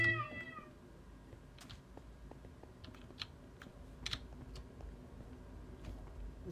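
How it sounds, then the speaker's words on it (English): A cat meows briefly at the start in the video game Minecraft, followed by quiet scattered clicking and ticks against a faint, calm ambient background. "There's a cat."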